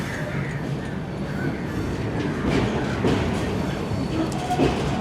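A Jan Shatabdi train with LHB coaches rolls onto the Bharathapuzha bridge, giving a steady, close, broadband rumble of wheels and carriages with faint rhythmic clatter throughout.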